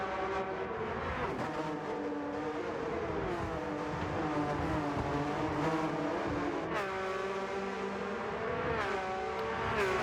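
Porsche Cup race cars scream down a short straight, their engines holding a loud sustained high-revving roar with rising and falling pitch as they pass, alone without voices.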